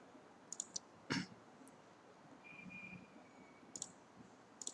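A computer mouse clicked while selecting a folder, a few faint close clicks in a quiet room, one slightly louder and doubled, with no talk.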